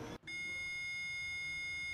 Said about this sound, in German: Piepsen.